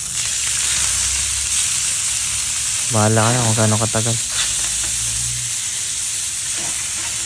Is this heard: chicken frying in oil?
yes